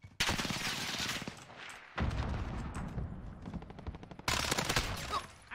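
Rapid automatic gunfire in a shooter video game, three loud bursts of quick rattling shots separated by brief gaps, close and harsh.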